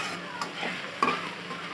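Onions, green chilies and lentil dumplings (bori) frying in a pan for a cauliflower curry, with a soft steady sizzle and a couple of brief stirring scrapes and knocks.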